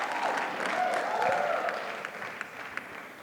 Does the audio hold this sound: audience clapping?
yes